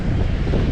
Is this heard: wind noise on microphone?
yes